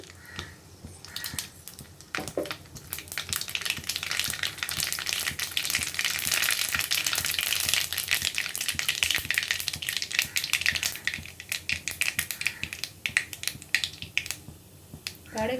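Mustard seeds splutter in hot oil, a dense burst of sharp popping crackles over a sizzle that swells after the first few seconds, then thins into sparser pops toward the end.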